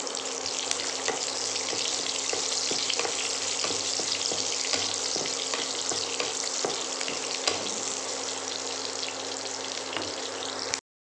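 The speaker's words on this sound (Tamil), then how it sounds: "வெங்காயம் போட்டாச்சு கொஞ்சம் கருவேப்பிலை ஆட் பண்ணிக்கலாம்" Onions and curry leaves fry in a pan for a brinjal and potato kuzhambu, a steady close sizzle with occasional light stirring taps and no voices.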